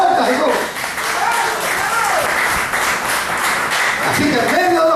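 Loud, fast clapping from a church congregation giving praise during a sermon, mixed with voices calling out over the continuous applause.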